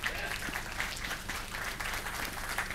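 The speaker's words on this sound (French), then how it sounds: "On peut l'applaudir." A room of conference attendees applauding a colleague, a quiet, distant, steady patter of clapping that holds evenly for a few seconds, with faint voices mixed in underneath.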